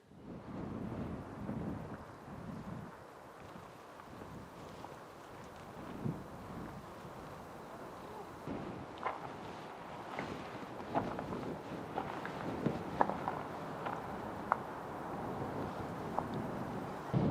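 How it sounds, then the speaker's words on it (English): Strong wind blowing beside the Two Medicine River in Montana, a continuous roaring rush with microphone buffeting and gusts that swell and ease, with no one speaking. "the wind is really blowing today"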